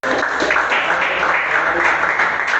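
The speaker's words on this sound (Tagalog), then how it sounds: "Palakpak." Audience applause during a church discipleship training session, a steady dense wash of clapping filling the room for a few seconds, loud and continuous.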